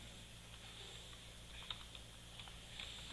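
Light keystrokes tapping on a computer keyboard, a quiet scattered patter of clicks over a low steady hum.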